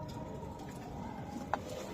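Budapest pigeons give low, soft coos close by over a steady murmur of background noise, with a couple of brief sharper sounds near the end.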